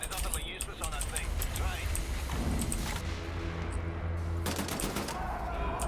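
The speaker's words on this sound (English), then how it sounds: "He's wasting all this small arms fire is utterly useless on that thing" Small arms gunfire in Wolfenstein: The New Order, steady rattling shots in a trench battle against a large stalking machine, dense and continuous with someone talking over it.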